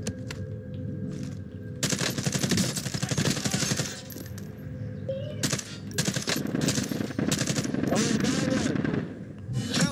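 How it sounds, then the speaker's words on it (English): Rapid automatic gunfire in Call of Duty Warzone, dense bursts and single shots crackling loudly through most of the stretch, with players talking over the firefight. "I'm taking fire."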